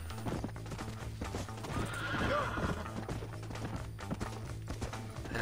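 Hooves clip-clop in a quick galloping rhythm with a horse whinnying in Red Dead Redemption, set over a low steady background drone.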